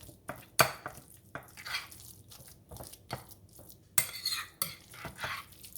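A fork scrapes and clinks against a bowl while mashing lumps out of tuna for a keto tuna salad, a close, irregular series of metallic taps and scrapes with no talking.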